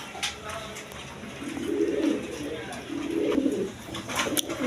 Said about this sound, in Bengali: রেড কালার গড়রা কবুতর